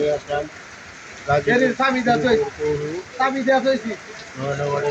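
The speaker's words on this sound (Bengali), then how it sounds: "আজকে বারোটার দিক থেকে প্রচণ্ড বৃষ্টি ঝড়" Heavy rain falling over the Sreepur municipal area of Gazipur, a steady wash of noise running under a person's talk throughout.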